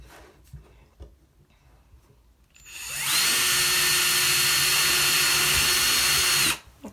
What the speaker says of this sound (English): I'm gonna make one more hole, and that way we can drill